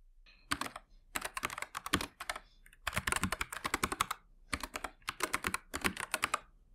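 A computer keyboard being typed on while entering database credentials, with close, crisp keystrokes coming in rapid bursts separated by brief pauses, alone without any voices.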